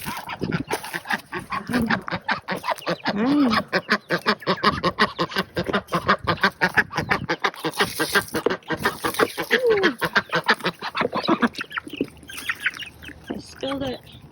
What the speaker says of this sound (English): Let's see how crazy these birds go. They love their water, especially the ducks.